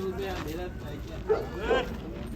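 Two short, high puppy yips ring out a moment apart over steady background noise at a dog market in Fergana, Uzbekistan, while people talk nearby.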